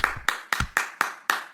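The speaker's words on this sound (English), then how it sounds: "I'm giving that one a round of applause" One person claps hands alone, six sharp, evenly spaced claps close to the microphone, with a faint low thump under a couple of them.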